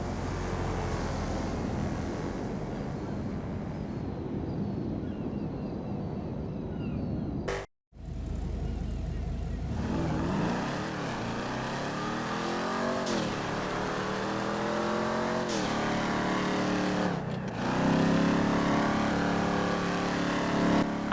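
A car engine in GTA Online revs and accelerates, rising and falling in pitch through several gear changes, broken by a brief sudden cutout midway and then climbing again, loud and close.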